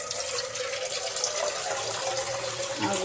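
Water pours into the base of an idli steamer in a continuous splashing gush with a rising filling tone, close by and fairly loud, with no speech over it.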